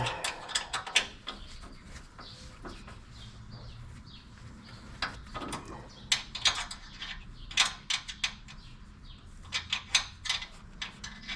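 A hand ratchet retightens the skid plate bolts on a Volvo V70, producing close, repeated clicking bursts in uneven runs throughout, with no talking.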